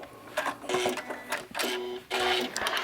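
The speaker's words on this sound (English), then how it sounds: "I am just practicing stitching with my ruler quilting with a straight edge ruler" A domestic sewing machine runs in short bursts of rapid mechanical stitching, pausing briefly between runs, while quilting lines along a straight edge ruler; close and clear with no talking.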